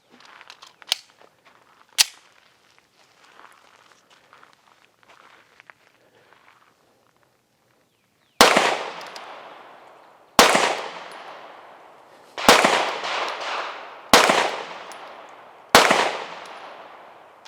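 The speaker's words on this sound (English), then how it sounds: "Now we're gonna have Tanisha get some shots off with this Taurus to get her opinion on it" A Taurus G3 pistol fires at a shooting range, five loud, sharp shots spaced about two seconds apart, each with a ringing decay, after some quieter handling clicks.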